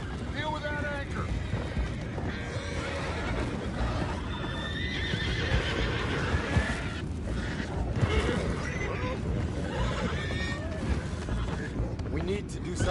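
Horses neigh and whinny repeatedly amid clip-clopping hooves in Red Dead Redemption 2, with a steady bed of wind and water noise and game characters talking over it throughout.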